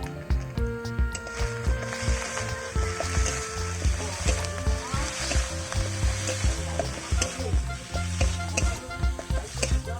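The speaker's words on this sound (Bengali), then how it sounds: "ভালো করে মশলাটা আমি কষিয়ে নেব" Spice paste of chili powder, salt and turmeric sizzles and fries in a pan for fish curry while being stirred steadily, with a continuous loud frying hiss and regular scraping stirs throughout.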